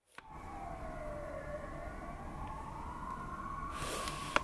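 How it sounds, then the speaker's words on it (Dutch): An emergency vehicle siren wails in a city street, one long steady tone that slowly dips and rises again, heard from a moderate distance and continuous for several seconds. "Ik hoor echt lijp veel sirenes de hele tijd."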